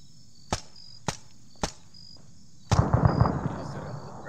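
ArmA 3 gunfire: three sharp, evenly spaced single shots ring out, followed by a dense burst of rapid cracks and rumbling that trails off, fairly near against a quiet background.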